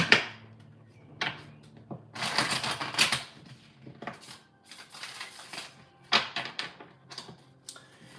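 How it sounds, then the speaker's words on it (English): A deck of tarot cards being shuffled in several quick riffling bursts, close up, with short pauses between shuffles. "let's give it a good shuffle"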